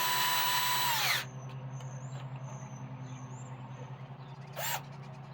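A small RC car electric motor on an Associated MGT two-speed truck whines up to high revs, then drops sharply to a lower steady buzz before a brief second rev burst near the end.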